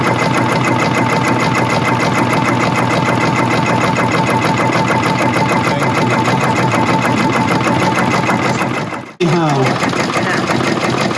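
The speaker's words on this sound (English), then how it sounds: "You can see how it's making an effective embroidery." A Brother PR embroidery machine with a clamp frame stitches a design onto a bag, a loud steady rapid needle rattle running continuously, then a brief cut-out near the end before the mechanical whirr resumes.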